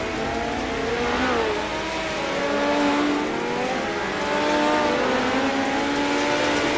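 Sprint cars race around the Chili Bowl dirt track, their engines roaring and whining at high revs as several cars pass in a steady, continuous stream of loud engine noise.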